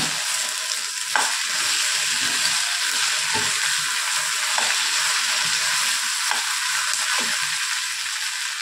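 Raw banana fry stirred in a sizzling pan, a steady hiss of frying oil broken by several sharp scrapes and clicks of a spoon against the metal, close and continuous with no talking.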